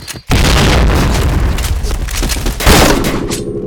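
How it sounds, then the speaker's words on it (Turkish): A grenade blast in the shooter game Point Blank: a loud, booming explosion erupts near the start and rumbles on, followed by a second heavy burst about two and a half seconds later, with no talk. "Bomba atıyorum!"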